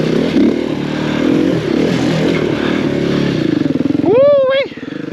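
A 125cc enduro motorcycle revs on a super enduro practice track, its engine note rising and holding in a short, loud burst near the end amid steady crowd chatter and clattering.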